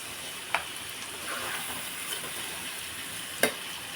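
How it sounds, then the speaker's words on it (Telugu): Salted onions frying in a pan give a steady, even sizzle and hiss close by, broken by a couple of sharp clinks of a utensil, with no talking. "చూసారా బాగా మగ్గిపోతుంది ఉల్లిపాయ త్వరగా మగ్గుతుంది"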